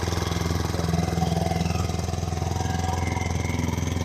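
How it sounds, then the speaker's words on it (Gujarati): Motor boat engine running on the water near Omkareshwar, a steady, loud mid-pitched drone with a fast regular throb that holds unchanged throughout, with no voices over it. "हमारी होड़ी चालू"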